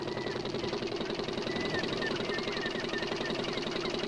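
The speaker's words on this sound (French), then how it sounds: "Regarde, Nénel, il va faire partir le moteur." A boat motor chugs steadily at a fast, even idle-like rhythm, with knocking pulses and a faint higher whine, moderately near and unbroken throughout.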